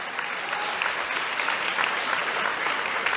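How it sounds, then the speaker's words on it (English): An audience applauds for a political hero in a continuous, dense wash of clapping that holds steady and loud throughout, with no talk over it. "if you clap for him, I'll be really happy"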